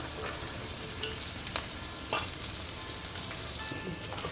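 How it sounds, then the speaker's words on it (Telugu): Half a kilo of cut ivy gourd frying in oil with onion and green chillies, a steady, loud sizzle close up with occasional stirring scrapes. "ఇప్పుడు మనం కట్ చేసుకున్న 1/2 కేజీ దొండకాయను నూనెలో వేసుకుని"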